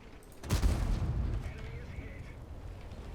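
A tank gun fires in a World of Tanks battle, one sharp deep boom that rumbles and decays slowly beneath steady game background noise.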